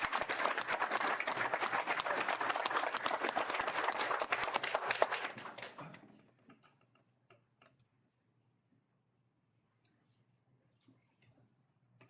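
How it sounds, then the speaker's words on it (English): An audience at a police sergeant promotion ceremony applauds with dense, steady clapping for about six seconds, then it stops abruptly, leaving near silence broken by a few faint scattered claps. "Please allow a round of applause for Sergeant Mercy B."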